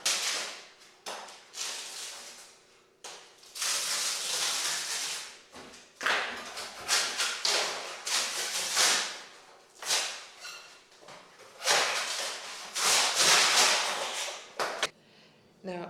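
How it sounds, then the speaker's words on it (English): Old paint being scraped off wooden door frames during a house makeover, heard as bursts of rough, broadband scraping strokes, some long and some short, close by with brief pauses between them. "Rens is scraping off the old paint and sanding the door frames"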